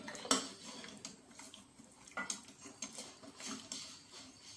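Dishes and cutlery clink as a homemade soup is served: scattered sharp metallic taps and knocks of spoon against bowl, close and moderately quiet, with short gaps between hits and no speech.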